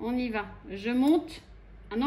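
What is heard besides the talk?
None of the usual background noises is heard.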